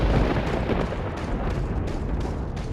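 Rocket launcher blasts in Resident Evil 4 make a sustained, dense rumble of explosions that fills the whole clip with no clear gaps, loud and close.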